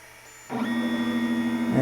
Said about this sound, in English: So it's now going to extrude some plastic here